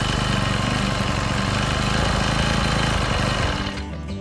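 A four-stroke brush cutter engine idles loudly and steadily on its own, then sputters out and stops near the end, leaving quiet.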